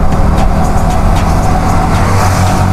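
Pulsar 220 motorcycle overtaking in traffic during a street race, a loud continuous engine and road roar up close with no break.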